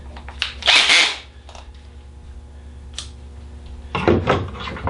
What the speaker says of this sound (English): Grab yourself your drill.